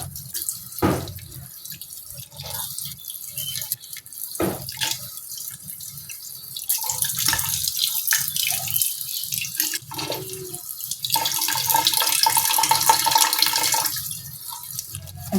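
Broth and water are poured into a cooking pot for sinaing na isda, a steady splashing stream that runs for several seconds, grows fuller and louder toward the end, and is broken by a few clinks and drips.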